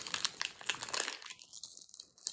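Plastic toy sachet crinkling as it is torn and pulled open, with close, busy crackling that drops away halfway and leaves a few faint rustles.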